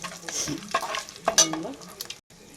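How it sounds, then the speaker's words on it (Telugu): Whole cardamom pods and bay leaves sizzling in hot oil at the start of an egg curry, with a steady close crackle broken by a few spoon stirs and scrapes, then a brief pause. "రెండు యాలక్కాయలు ఇదిలో వేసుకునండి ఒక రెండు బగారా ఆకులు వేసేసుకుందాం"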